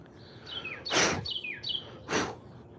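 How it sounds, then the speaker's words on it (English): Outdoor birdsong of short descending chirps and whistled phrases repeats at close range, broken twice by louder broadband scraping bursts from wood carving on nectarine wood. "Or is that the bird singing?"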